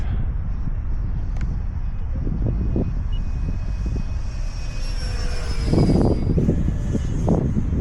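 An E-Flite Extra 330 radio-controlled aerobatic plane buzzes overhead, its electric motor whine shifting pitch as it passes and climbs, with gusty wind noise buffeting the microphone throughout.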